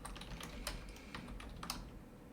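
Quiet, quick typing of code on a computer keyboard, with steady rapid key clicks and a few louder keystrokes over a couple of seconds and no talking.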